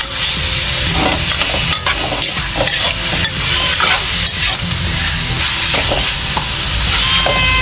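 Ingredients sautéing in cooking oil in a pan, a loud steady sizzle with repeated stirring scrapes and clatters, close up with no talking.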